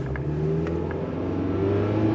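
An old car in poor condition, carrying three people and equipment, revs with the throttle held open, a steady low engine drone rising slightly in pitch, close and continuous.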